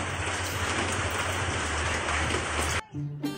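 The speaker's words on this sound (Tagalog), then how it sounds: "Abi jud na kog dili maundang ang ulan diha" Steady heavy rain pours down in a dense, close hiss for nearly three seconds, then cuts off abruptly, leaving a brief quieter patch of faint tones.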